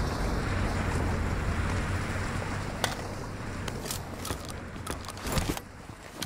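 Rushing, splashing water in a video game, a dense continuous wash of noise with scattered sharp clicks and pops toward the end, fairly loud.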